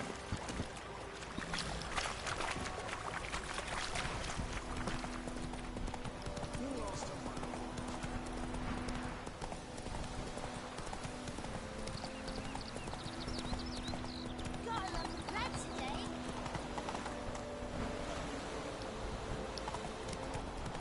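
Hooves of Roach, a horse in a video game, galloping in a fast, continuous clip-clop rhythm, close and steady, mixed with game ambience and a voice speaking over it.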